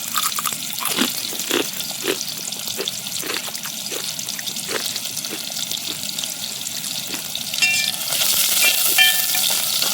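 Oil sizzles and fries in a pan over a campfire in a Karnataka forest campsite while curry is being started, a steady crackling hiss punctuated by repeated sharp clinks and scrapes of a utensil, swelling louder toward the end.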